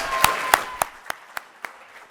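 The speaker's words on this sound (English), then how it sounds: "Round of applause." Roughly six separate handclaps from a business competition audience as a finalist is introduced, evenly spaced and fading in strength, close and crisp with no talk.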